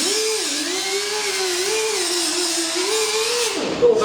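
Angle grinder fitted with a 3M gold polishing pad working over metal, a steady close whine with a slowly wavering pitch that runs for about three and a half seconds, then winds down and cuts off.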